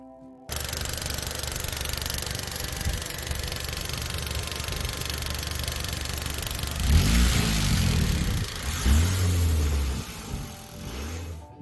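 A 1992 Honda Accord engine running with its coil wire off the distributor cap, idling steadily with a rough hum, then surging in a couple of revs near the end.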